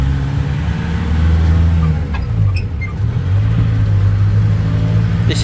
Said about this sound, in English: So it's two carriages along this little train.